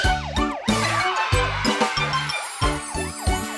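A fire engine siren wails in quick rising-and-falling sweeps, repeating rhythmically over a bouncy musical beat in a Hindi children's nursery rhyme.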